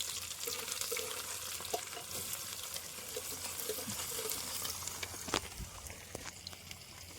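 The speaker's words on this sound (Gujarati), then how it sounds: "હાલો ડુંગળીનો વઘાર કરીએ છીએ." Chopped onion crackles in hot oil as a tempering in a pan at an outdoor farm cookout, a moderate, even sizzle with a few sharper pops and clatters, heard at close range without speech.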